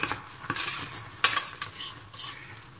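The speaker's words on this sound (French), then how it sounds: "je mélange un peu" A utensil stirs caramel in a pan with the heat turned off, giving scraping, clinking strokes at an uneven rhythm, close and fairly loud, with no talk.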